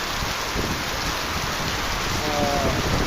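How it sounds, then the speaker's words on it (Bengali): Steady rain pours down over a wide open market ground that was once a cattle fair and now hosts a furniture market, a dense, even wash of drops with no letup. "এখানে বৃষ্টি হইতেছে"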